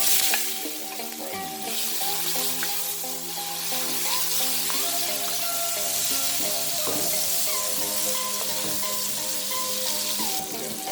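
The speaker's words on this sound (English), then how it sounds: "I'm going to add my onions because I'm going to fry them." Onions fry in butter and oil in a pan for Jamaican seasoned rice, giving a steady, even sizzle that runs the whole time under a soft musical tone.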